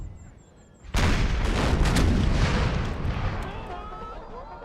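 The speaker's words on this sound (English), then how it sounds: "Our first cannon shots have killed their general." Heavy cannon fire in the Empire: Total War Brothers vs. Brothers mod, a Civil War battle: a sudden loud boom from a volley that rolls into a long, thundering rumble, fading slowly over several seconds.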